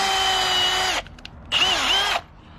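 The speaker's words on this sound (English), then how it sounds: "I just took a drill bit and literally just went through all this rubber" A power drill whines at high speed for about a second, drilling through a BMW E36 rear differential rubber bushing, stops, then runs again for a shorter burst, close and loud.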